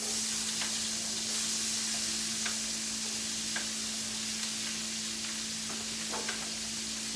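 Vegetables sizzle in chicken drippings in a hot pan, a constant close frying hiss with occasional soft stirring scrapes and a steady hum beneath; no talking.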